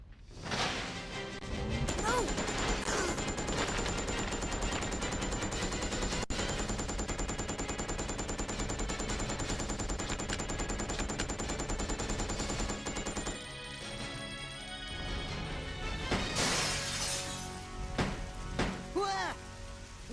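Rapid gunfire and impacts ring out in the survival-horror game Resident Evil Code: Veronica X. Dense bursts of shots and crashes sit under game music, with a clearer gunshot burst near the end.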